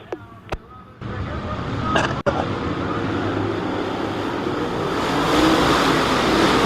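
Race cars at Peoria Speedway roar in a steady, dense wash of engine and track noise during a race replay, with a few sharp clicks at the start and a brief dropout near the middle.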